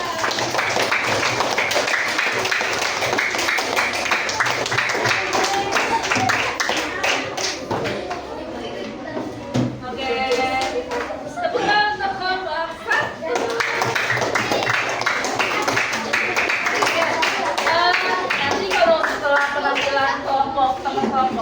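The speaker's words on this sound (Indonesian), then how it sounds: "Yeah, tepuk tangan." An audience claps hands together at an event in a steady, rhythmic stream of close, loud claps lasting throughout, with voices talking and calling out over it.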